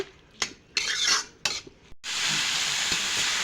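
Chicken and onion frying with salt and ground black pepper are stirred in a pan: a few sharp metal utensil clinks and scrapes, then a steady, loud, close sizzle.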